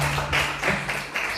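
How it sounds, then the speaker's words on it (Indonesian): A small group of teachers in a workshop claps hands briefly, a few quick uneven bursts of close clapping with a faint hum underneath. "Tepuk tangan dulu dong"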